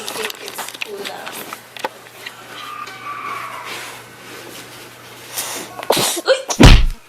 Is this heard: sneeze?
yes